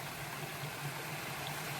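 A small unnamed waterfall on Black Hill rushes steadily in the open, a constant broad wash of falling water at moderate distance with no voices.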